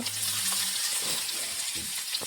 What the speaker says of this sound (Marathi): कांदा टाकल्याच्या नंतर आपण चांगला फ्राय करून घेऊ व्यवस्थित गुलाबी होईपर्यंत